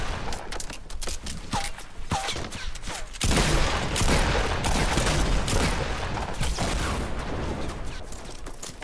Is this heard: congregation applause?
no